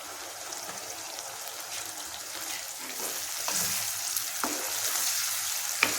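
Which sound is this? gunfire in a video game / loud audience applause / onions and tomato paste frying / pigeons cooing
onions and tomato paste frying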